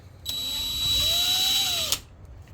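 A power drill bores a small starter divot into a Grizzly 1015 belt grinder with a smaller bit ahead of a 7/16 tap, a steady high whine rising in pitch for about two seconds, close and loud, then stopping abruptly.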